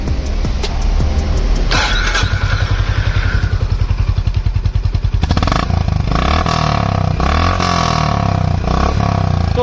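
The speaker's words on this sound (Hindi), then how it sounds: "तो जी ऐसा है कुछ Honda Highness का एग्जॉस्ट नोट।" A Honda H'ness CB350 motorcycle starts up, with a cranking clatter before the engine catches, then settles into a loud, close, thumping single-cylinder exhaust idle with a few blips of the throttle.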